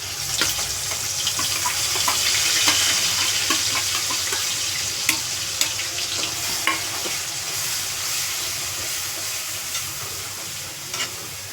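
Bay leaf, ginger, garlic and onion fry in hot oil for chole, giving a loud, close, continuous sizzle with stirring scrapes and a few sharp pops; no one speaks.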